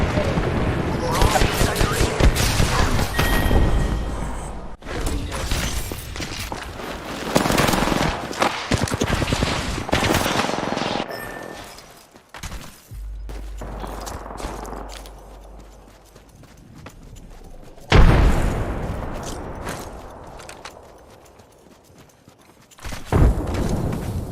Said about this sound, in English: I'm about to go light these fireworks.